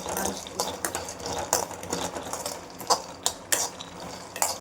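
Sesame seeds dry-roast in a pan while a spoon stirs them. Irregular scraping clicks and sharp knocks sound close over a soft, continuous crackle.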